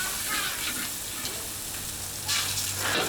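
Salt fish sizzling and crackling in a hot wok, a steady frying hiss with a few louder bursts of spatter toward the end.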